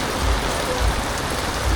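Heavy rain pours down in a constant dense hiss, with dull low thumps of water hitting a surface now and then.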